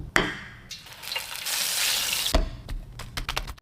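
Flour-coated bread slices go into hot oil with a sharp splash, then a broad, steady sizzle that fades, followed by scattered clinks and crackles nearby.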